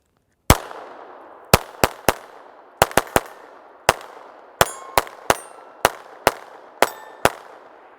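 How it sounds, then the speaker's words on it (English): About fourteen sharp gunshots from a Taurus .22LR semi-automatic pistol firing Federal Punch ammunition, loud and close, at an uneven pace with short gaps and quick pairs, each crack followed by a brief ringing tail. "So let's do some shooting out of it."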